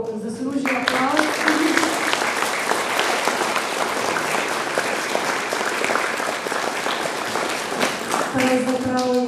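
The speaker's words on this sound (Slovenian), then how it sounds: "verjamem, da se tudi po tem odgovoru zaslužijo aplavz" Audience applause at a reception for volunteer representatives hosted by a mayor, a loud sustained burst of clapping that starts sharply and fills the room before tapering, with voices at the edges.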